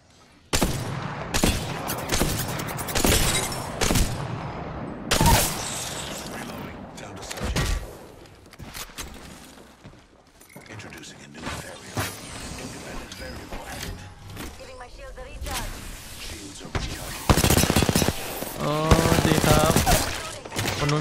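Gunfire in a video game from a hip-fired gun, with rapid bursts of shots and thuds scattered through a continuous noisy stretch, loud and close, mixed under frequent talking.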